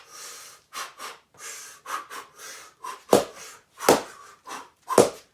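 Deliberate, forceful breathing during a heavy combat drill: a rhythmic series of inhales and sharp, loud exhalations, the last few bursts strongest, heard close with pauses between each breath.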